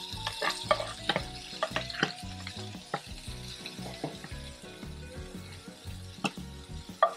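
Olive oil sizzles steadily in a frying pan while finely chopped, already fried onions are stirred, with scraping and light clinks of a utensil against the pan.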